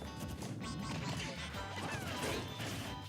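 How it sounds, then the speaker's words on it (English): Forward smash attacks crash and thwack during a competitive Super Smash Bros tournament match, with loud impact hits layered over busy game audio at a dense, steady pace. "throwing out some forward smashes"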